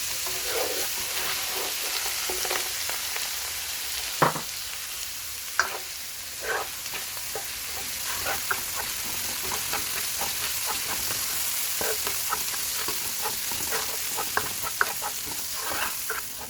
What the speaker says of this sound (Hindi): बस 2-3 सेकंड के बाद इसमें चिली डालेंगे